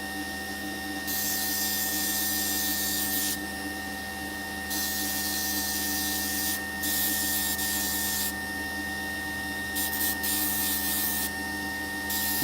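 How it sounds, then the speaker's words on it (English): Opal is rubbed by hand on sandpaper in repeated scratchy strokes lasting a second or two, with short pauses between them, over a constant low background hum. "I'll move up a grade of sandpaper"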